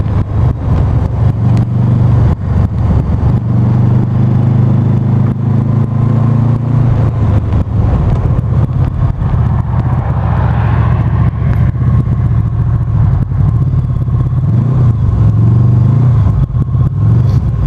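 A Honda VFR 800 motorcycle rides along a road, its engine giving a loud, steady low drone with constant wind rush and no voices over it.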